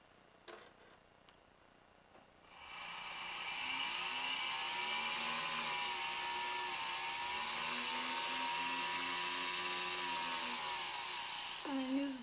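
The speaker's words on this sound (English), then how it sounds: "It's the red hand polishing tool." A red handheld rotary polishing tool used on a necklace during repair spins up after a quiet start and holds a steady, high-pitched electric whine close by, with slight pitch wavering as it touches the metal.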